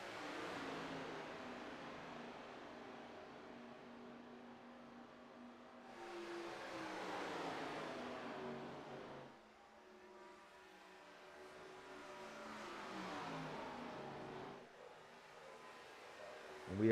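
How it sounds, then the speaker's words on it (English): Race cars rolling down pit lane in a racing video game at Daytona, with engines droning and rising and falling in pitch as the cars pass one after another, steady and moderately loud. "we have some cars going down pit lane"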